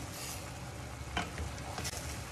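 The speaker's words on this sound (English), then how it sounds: "Now I'm gonna give it a good stir." Cauliflower stir fry sizzling steadily in a hot pan while being stirred, with a continuous frying hiss and a couple of brief scraping clatters of the utensil.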